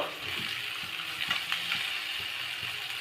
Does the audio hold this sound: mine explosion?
no